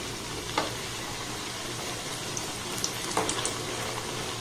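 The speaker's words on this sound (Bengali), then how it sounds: "দেখুন কত সুন্দর ভাজা হচ্ছে" Dough balls fry in a little oil on low gas, giving a steady soft sizzle with a couple of brief crackles and stirring clinks, close and without talk.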